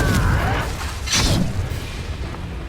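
A Confringo blast spell explodes in the video game Hogwarts Legacy, a booming burst with a crackling shatter that rings out over busy game effects and rumble.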